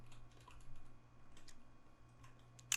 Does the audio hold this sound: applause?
no